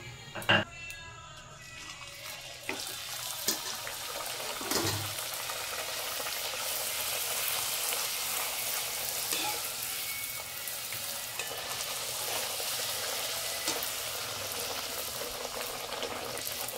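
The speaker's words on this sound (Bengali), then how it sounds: "তেলটা গরম হয়ে গেছে, এবার লুচিটা ভেজে নেব।" Luchi flatbread fries in hot oil, a continuous close sizzle and bubbling with occasional clinks and small pops, holding steady throughout.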